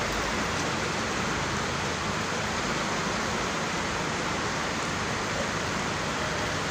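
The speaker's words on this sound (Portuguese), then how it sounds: "Numa situação braba de chuva." Heavy torrential rain pouring down in Rio de Janeiro, a dense continuous hiss of downpour at an even level for the whole stretch, with no voices.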